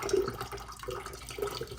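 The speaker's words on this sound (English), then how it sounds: "We're going to pour out this first run of slime." Slime being poured out of opened containers, giving a short, soft liquid gurgle and splash that runs steadily with no talk over it.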